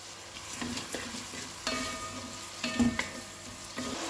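Chopped onions fry in hot oil with salt, a steady close sizzle broken by scraping stirs and a few sharp clatters of a spoon against the pan, no voices.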